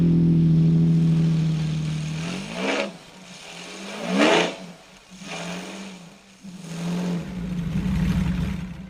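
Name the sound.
Lamborghini V12-powered motorcycle engine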